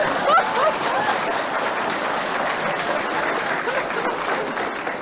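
Studio audience applause on an Australian television program: dense, steady clapping from a sizeable crowd, filling the whole stretch at an even level with no talk over it.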